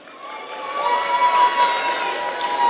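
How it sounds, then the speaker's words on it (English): A crowd cheers and whoops continuously, a dense wash of voices swelling and holding at moderate loudness. "Can we get another round of applause?"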